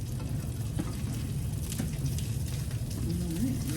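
Pork for Disney-style peanut pork crackles and sizzles steadily in a hot pan, a dense close hiss with faint clinks near the end.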